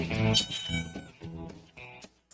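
A cat meows several times in quick succession, close and clear, the calls rising and falling with a slightly strained, caterwauling edge, with no other voices present.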